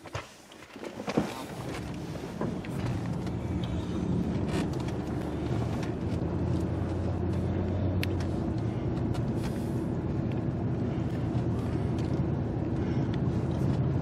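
A car rolls down the road heard from the cabin, a steady low engine and tire rumble with constant road noise and a bump near the start, no talking.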